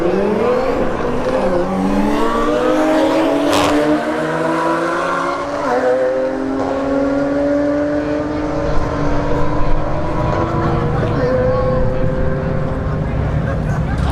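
An E90 and a Supra face an Audi S4 in a drag race at Bradenton Motorsports Park's Street Heat test-and-tune night. Loud engines roar steadily, with rising pitch sweeps as the cars accelerate through the gears, and a voice is heard at times.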